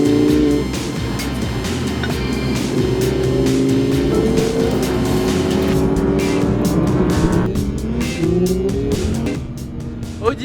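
A 610-horsepower rally car engine in Sardinia drives hard, loud and close the whole time, its revs climbing and falling in repeated surges with a steady roaring drone.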